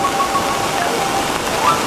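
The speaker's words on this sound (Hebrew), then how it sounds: "יורד גשם כל הבוקר" Steady rain falls at Lake Matheson in New Zealand, a constant broadband hiss of drops hitting the surroundings that holds evenly through the whole stretch with no voices.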